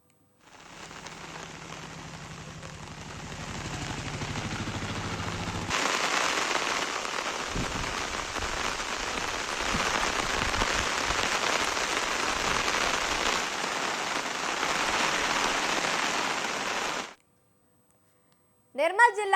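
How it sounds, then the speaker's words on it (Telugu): Heavy rain pours steadily across Bhainsa division in Nirmal district, Telangana, a dense continuous hiss that grows louder after the first few seconds and then cuts off abruptly near the end. "నిర్మల్ జిల్లా బైన్సా డివిజన్ వ్యాప్తంగా భారీ వర్షాలు కురుస్తున్నాయి"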